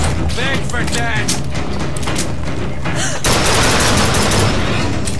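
Dense, continuous shooting from the first-person shooter BioShock Infinite, loud and unbroken, with a voice talking over the rapid weapon fire and a heavier barrage near the end.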